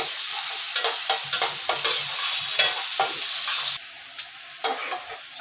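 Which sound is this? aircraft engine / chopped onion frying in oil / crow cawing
chopped onion frying in oil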